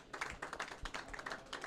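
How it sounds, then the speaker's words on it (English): Applause for a curling team leaving the ice at a club event, a brief patter of scattered hand claps at moderate distance in a large rink hall. "A nice round of applause for Matt Scheiner's team"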